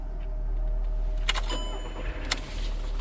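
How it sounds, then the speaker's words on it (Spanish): A car engine cranks and catches, its low rumble running steadily under a couple of sharp mechanical clicks, heard close and alone as a sound effect in a horror story. "Puse el coche en marcha y arranqué lo más rápido que pude."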